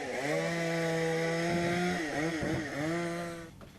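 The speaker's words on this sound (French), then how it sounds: "Donc vous entendez le bruit de la tronçonneuse." A chainsaw drones steadily at high revs, its pitch dipping and wavering as it bites into a mango tree, loud and close, with no talking.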